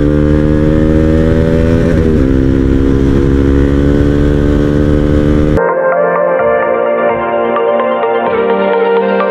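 A motorcycle rides along a hilly road toward Dhulikhel in Nepal, its engine droning loud and steady throughout, shifting to a different higher-pitched tone partway through.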